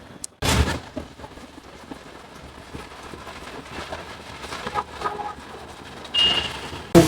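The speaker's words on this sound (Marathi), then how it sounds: "मस्त असा पाऊस पडतो" Steady rain falls with a soft hiss, punctuated by a few louder bursts and rumbles like distant thunder.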